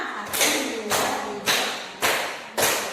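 Classroom concentration clapping game with five crisp, evenly timed hand claps, close and loud, each clap trailing off with a brief room echo, no voices over them.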